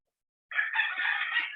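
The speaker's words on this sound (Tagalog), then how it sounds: "So nagdidiwang na po mga manok po natin dyan." A rooster crows once, loud and close, a single sustained cock-a-doodle-doo standing alone after a moment of silence.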